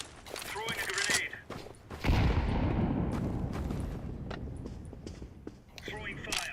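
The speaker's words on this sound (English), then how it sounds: "Grenade out. Throwing a grenade." Grenade thrown during a first-person shooter match: a sudden heavy blast lands mid-clip and rolls into a long, dense rumble, surrounded by scattered gunfire and game noise, with voices talking around it.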